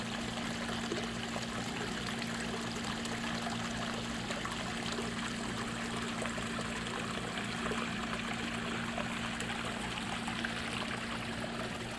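Water in a garden fish pond trickles and splashes continuously, a steady broadband rush with a constant low hum beneath it and no voices, unchanging throughout.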